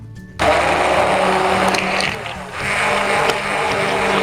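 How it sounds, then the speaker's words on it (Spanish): A hand blender whirs loudly and steadily after a quiet start, its motor pitch shifting slightly as it churns through thick apple batter for an apple tart. "pasamos a triturarlo todo con una batidora de mano o con un vaso batidor"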